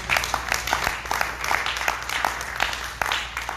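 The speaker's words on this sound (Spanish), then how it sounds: "Denle un aplauso a Cristo Jesús." A church congregation claps at a faint distance during a Christian service, with sharp hand claps falling in a fairly steady rhythm over a low room hum.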